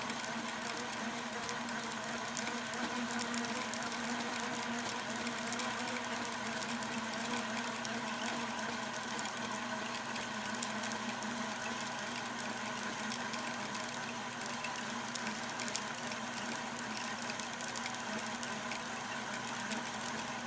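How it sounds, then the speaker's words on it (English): Fishing line winds onto a baitcasting reel at a steady pace, making a quiet, even mechanical whir that runs unbroken from start to finish. "you don't want to spool your line too fast either. I mean, a good steady pace is what I'm doing"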